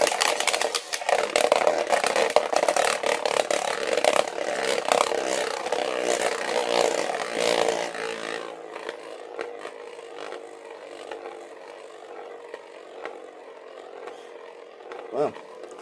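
An X Beyblade fired from a modified Burst launcher whirs loudly in an arena for several seconds, a sustained buzzing spin that fades into a quieter, wobbling hum before a final clatter.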